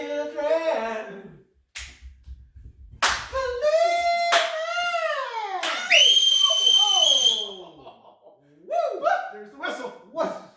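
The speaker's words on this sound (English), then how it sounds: "There's the whistle" A sharp, steady whistle blast rings out amid lively voices and laughter, with sliding vocal sounds and chatter around it.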